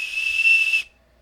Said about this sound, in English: Yep, it's a whistle.